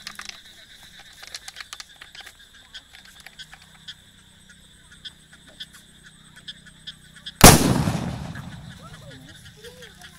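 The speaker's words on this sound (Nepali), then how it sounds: "यसले निकै ठुलो साउन्ड निकालेको छ हेरौँ यो कति पटकसम्म पड्किन्छ" A device for scaring off elephants, monkeys and birds from crop fields gives light ticking clicks, then fires one sudden loud bang that rings and decays over the next few seconds.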